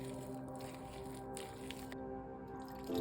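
Bánh xèo batter of coconut milk and water is stirred in a bowl, giving soft wet squishing and dripping sounds close up, irregular and quiet over a faint steady hum.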